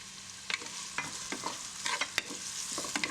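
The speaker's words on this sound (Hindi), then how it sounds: "तकरीबन 3 मीडियम साइज़ की प्याज बारीक कटी इसके अंदर डालिए और इसको गोल्डन ब्राउन होने तक कुक करेंगे" Three medium onions, finely chopped, fry in oil as they cook toward golden brown, under a soft steady sizzle broken by regular spoon scrapes and taps against the pan, with no talk.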